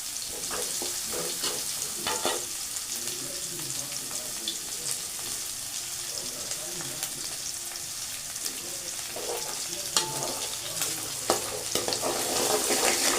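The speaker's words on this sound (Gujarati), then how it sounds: "પછી એમાં ડુંગળી નાખી." Sliced onion sizzles in a pan with ginger and green chillies for noodles. A continuous frying hiss runs throughout, broken by occasional scrapes and clicks of a stirring utensil, with no one talking.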